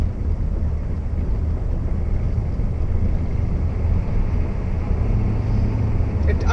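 A 1991 Ford F250 truck drives and downshifts, its engine a steady, loud low rumble with heavy road and wind noise inside the cab, holding an even drone throughout.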